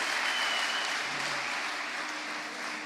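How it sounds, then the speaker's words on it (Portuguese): A church congregation at a Pentecostal conference in Belém applauds steadily, a dense wash of clapping that holds for the whole stretch and fades slightly toward the end, with a faint voice briefly underneath. "Gente, aplaude a Deus para ela."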